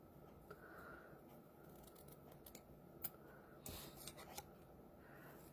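Quiet scissors snip and trim paper for a handmade card, with soft rubbing and rustling between a few distinct cuts, heard close and alone.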